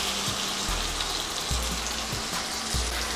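Potatoes and a little water sizzle and fry in a pan, a steady crackling hiss with occasional stirring thuds, close and alone without talk.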